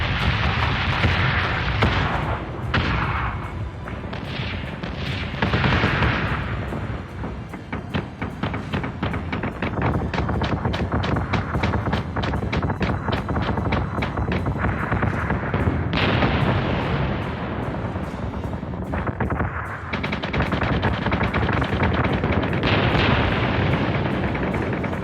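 Starship weapons fire in the space battle game Battlestar Galactica Deadlock: long dense volleys of rapid booming shots with heavy blasts rolling underneath, loud and continuous, with short gaps between barrages.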